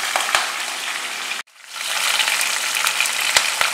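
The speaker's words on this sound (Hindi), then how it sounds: "इस तरीके से डाल करके हरी मिर्च को सेक लें" Three green chilies hitting hot oil in a pan for spicy dry cumin potatoes, with a steady crackling sizzle that cuts out briefly and then swells back up loud and close, with a few sharp pops.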